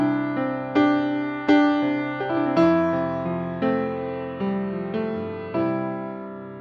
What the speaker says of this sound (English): This is Addictive Keys, which have an upright piano that sounds like this.